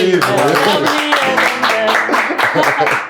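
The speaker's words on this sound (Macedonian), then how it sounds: "Добро со оглед на времето и голем аплауз за сите уште еднаш." Studio audience applause at a Macedonian television show, a dense wash of clapping that fills the whole moment, mixed with voices and some tonal sound underneath.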